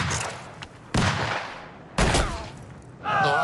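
A first rank of soldiers fires a rifle volley, giving three loud, sharp blasts about a second apart, each trailing into a short echo, with a faint voice near the end.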